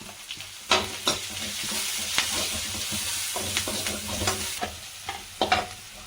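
Okra frying with onions in a pan sizzles steadily, with sharp scrapes and clacks of stirring coming in irregular bursts, close and fairly loud, with no voice.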